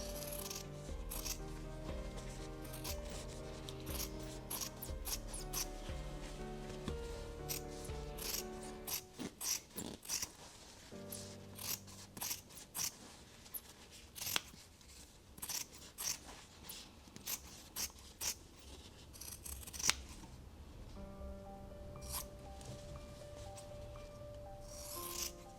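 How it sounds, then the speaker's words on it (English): Scissors cutting fabric close to the stitching while sewing a jumpsuit, heard as a series of soft, close snips and rubbing clicks with pauses between them, quiet and without talk. "Be careful, you don't want to cut your stitching."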